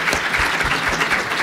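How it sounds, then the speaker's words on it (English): A conference audience at a plenary session claps together, a dense continuous wash of applause, fairly loud and even throughout. "let's give a round of applause"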